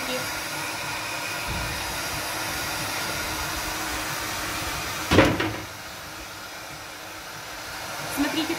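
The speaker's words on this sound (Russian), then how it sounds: "мы сушим феном, и вот они трещины пошли" A hair dryer blows steadily on decorative plaster as it dries and cracks for an aged-wall effect, a constant close airy whir with a brief clatter partway through before the blowing continues more quietly.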